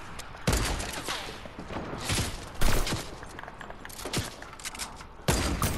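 Gunfire in Fortnite, loud repeated shots and bursts crackling through the whole stretch at an irregular rhythm, several sharp heavy hits standing out.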